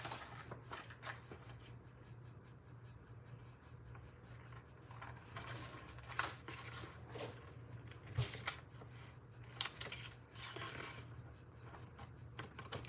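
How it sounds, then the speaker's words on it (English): Scissors cutting paper pages for a junk journal give a series of crisp snipping and rustling sounds at irregular intervals over a low steady hum, close by and fairly quiet, with no talking. "now I'm just gonna cut the rest away"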